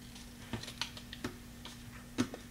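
Typewriter keys struck in a room during craft room organizing, a handful of sparse, sharp clacks spaced irregularly, fairly faint and close.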